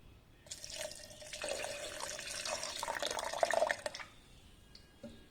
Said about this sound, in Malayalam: അതിനകത്ത് 1 ഗ്ലാസ് ജ്യൂസിനുള്ള വെള്ളം ഒഴിച്ചു കൊടുക്കാം